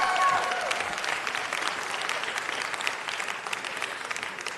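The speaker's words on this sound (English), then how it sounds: "Now that's worth a bigger round of applause than that." Steady round of applause from the audience at a city council meeting, moderately loud and continuous throughout, slightly tapering off after a stronger start.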